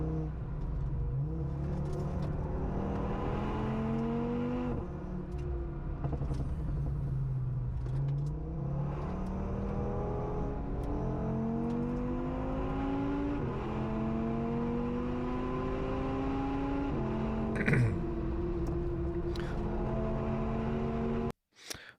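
A small Audi S1 with all-wheel drive drives fast around the Nürburgring, its engine heard from inside revving up and down through repeated gear changes, loud and steady throughout.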